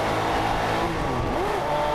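Paul Newman's Camaro race car drones steadily at high revs on a speedway track, a continuous loud engine note with a brief pitch sweep midway, no voices.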